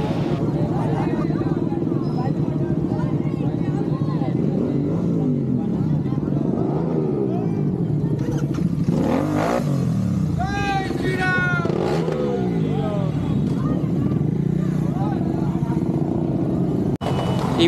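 Kawasaki motorcycles, among them a ZX10R and a Z900, rev and rumble at a busy Republic Day rally in Hyderabad, with loud engine noise throughout and nearby voices chattering over the crowd din.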